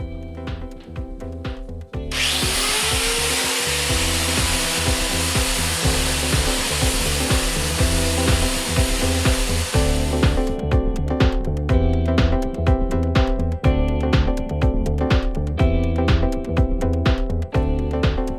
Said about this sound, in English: Okay, so I gave that a shot with the angle grinder